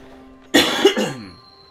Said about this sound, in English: That was a good cough. Very hearty.